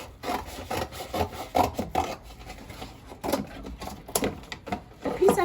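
A piece of cardboard is cut and trimmed to about 1.5 inches, giving a series of scratchy, rasping strokes of uneven length close by, with short pauses between them and no talking.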